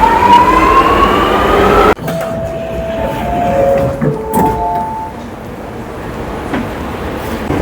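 A metro train in Sydney screeches with a rising metallic whine as it pulls in, then a sharp clunk gives way to quieter platform sounds with a few tonal chimes and faint rumbling.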